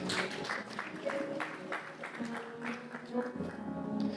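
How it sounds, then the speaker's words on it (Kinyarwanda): Clapping from a small indoor gathering greets a gift being handed to a woman called Tantine. Steady, moderately loud applause runs for about four seconds, with voices mixed in. "Reka tukumukomera amashyi arimo kuza rwose."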